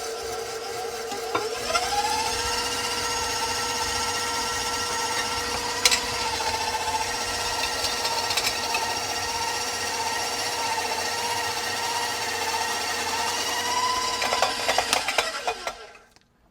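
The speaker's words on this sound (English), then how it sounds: "So then we open up the chute, turn on our mixer," A KitchenAid stand mixer drives a FavorKit grater attachment shredding cheese, a steady motor whine with grinding rasp holding close and loud for about fifteen seconds before it stops abruptly.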